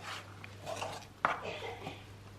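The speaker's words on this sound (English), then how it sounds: "Now we're just going to give that a good mix." Kheema filling of minced meat with lemon juice and garam masala being mixed in a bowl: soft, close scraping and stirring with a single sharp utensil clink partway through.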